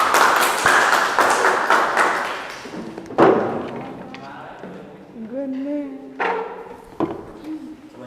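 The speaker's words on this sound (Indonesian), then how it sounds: "Kasih tepuk tangan untuk kelompok 1." Classroom applause for a student group, a brief burst of clapping that quickly dies away, followed by scattered thuds, knocks and faint room sounds.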